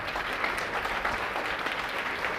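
A standing audience gives a visiting general-studies teacher from Prayagraj a warm welcome, steady, dense clapping filling the whole moment without talk.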